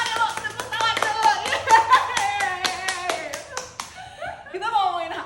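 Podcast hosts clap their hands in a quick run of sharp, close claps, then laughter and chatter take over toward the end.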